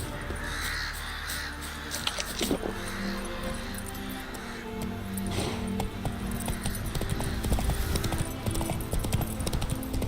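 The horse Roach clip-clops along in The Witcher 3, its hooves forming a steady uneven patter beneath game ambience, with crow caws and other scattered sounds mixed in.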